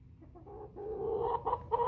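A Chantecler x Bresse cross pullet, about 21 weeks old, gives a run of soft, close clucks that grow steadily louder and more frequent, with no talk over them.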